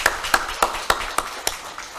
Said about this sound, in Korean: 우리 박수로 한번 격려해 주시면 고맙겠습니다